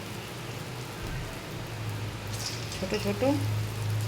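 Small urad dal fritters hiss and crackle in hot oil with a steady, rain-like sputter close by. Someone speaks briefly over the frying near the end.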